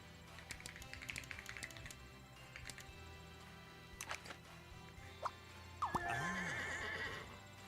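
A horse whinnies and neighs with hooves clip-clopping at a moderate distance, punctuated by scattered taps, ending in a loud, close, drawn-out whinny.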